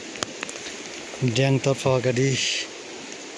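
Steady rain falls on the trail to Deng in the Manaslu region, a constant broadband hiss that runs through the whole stretch while someone speaks briefly in the middle.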